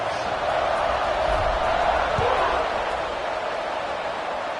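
Stadium crowd in the college football game NCAA 26, a steady, loud wash of roaring fans holding at an even level throughout.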